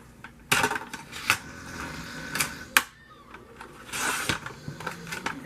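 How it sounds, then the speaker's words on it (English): A paper cutter trims sheets of paper for a craft teacup, with several short, sharp slicing clicks and rustles at irregular intervals, close by and on their own. "using my cutter here."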